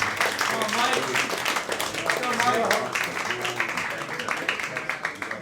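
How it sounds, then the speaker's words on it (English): Audience at an adult stand-up comedy show clapping steadily for comedian Mike Morrison, a dense close burst of applause that holds for several seconds with voices mixed in. "let's keep the clap going for Mike Morrison"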